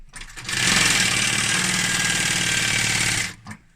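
A sewing machine runs a fast, steady stitch across a fabric seam on a zip cushion cover, a loud continuous whirring burst of about three seconds, starting and stopping abruptly, with no voices.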